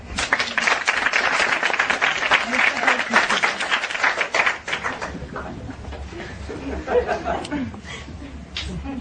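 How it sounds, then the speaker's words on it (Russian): An audience at a performance by the Kyiv Municipal Academy of Variety and Circus Arts claps warmly for first-year students, a dense wash of clapping for about four seconds that thins into scattered claps under murmured chatter and a voice. "Еще раз аплодисменты."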